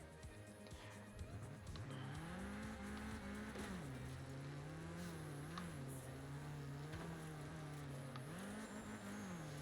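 A car in the Forza Horizon 5 video game with its engine droning steadily and its pitch wavering as it works its way over rocks, with occasional tire scrapes under a constant loud hum.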